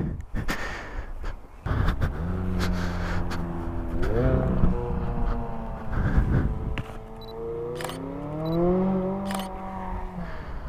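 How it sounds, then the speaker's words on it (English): A McLaren sports car blasts around nearby, its engine rising and falling in pitch through a few loud revving passes over steady background rumble, with no talk. "Look at that, McLaren's out blasting around."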